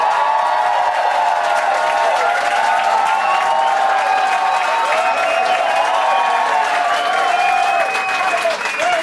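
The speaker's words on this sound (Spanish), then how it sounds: "Aplausos para Paul Fabre" A studio audience claps for a contestant on a Spanish-language reality competition show. The applause is dense and sustained, a loud continuous clatter mixed with crowd noise and a music bed for about nine seconds.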